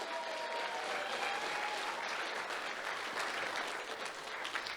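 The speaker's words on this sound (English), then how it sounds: "Please give them a round of applause that they deserve." Wedding guests give the couple a round of applause, a dense, steady wash of clapping from many hands that holds evenly throughout without pause.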